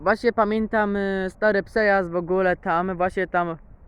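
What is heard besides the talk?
No distinct noise like a dog, phone or traffic.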